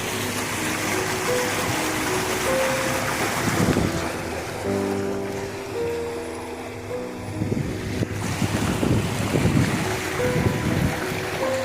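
Loud, steady rush of floodwater after heavy rain fills the scene, a broad churning roar with wind buffeting the microphone and a low engine-like hum underneath.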